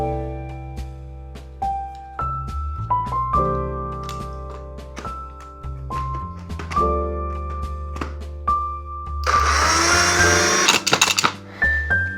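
An electric mixer grinder crushes ice cubes in a short, loud, harsh grinding burst lasting about two seconds, set against steady background music that fills the rest of the clip.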